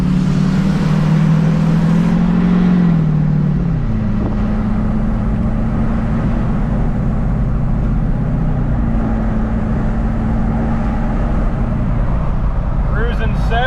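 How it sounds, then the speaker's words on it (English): A GMC Yukon swapped to a Duramax LBZ diesel accelerates onto a highway. The engine drones loudly and its pitch drops as it shifts, settling into a steady rumble while someone talks over it. "Well, boys, we're getting on the highway for the first time."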